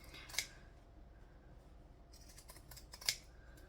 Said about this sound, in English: Now, I am still going to zigzag scissors the bits that we've sewed.